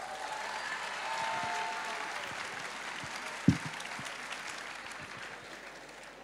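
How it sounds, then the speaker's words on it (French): A crowd applauds people celebrating their birthday at a Christian gathering, steady broad clapping from many hands throughout, with one sharp louder clap or knock standing out midway. "Applaudissez-les, c'est leur anniversaire."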